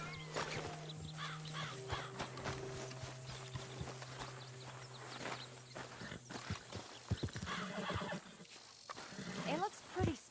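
A spooked horse in the video game Red Dead Redemption 2 neighs and whinnies repeatedly, with hoof clip-clops and game ambience, while voices talk over it.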